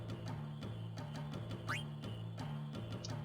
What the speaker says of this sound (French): Et à choper des grenouilles.